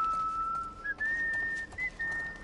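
A character in the video game The Last of Us: Left Behind whistles a sustained, slightly wobbling tone that breaks twice into brief pauses, steady and clear over quiet game ambience.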